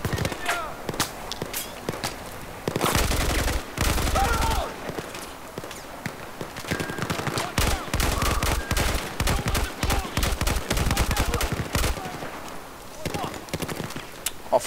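Gunfire in the video game Battlefield 4, bursts of rapid shots and single cracks scattered across the scene with a dense sustained volley near the start, while someone talks over much of it.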